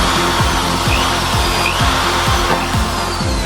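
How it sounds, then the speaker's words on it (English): Steady loud whine of a power drill boring a small hole close by, with a repeating mechanical rattle through the few seconds and no talking. "And drill a small hole in"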